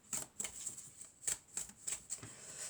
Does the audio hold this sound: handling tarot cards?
yes